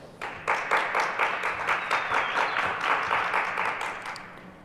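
Conference audience applauding and cheering at a hacking convention, a dense burst of clapping with shouts that swells quickly and stays steady for several seconds before tapering off.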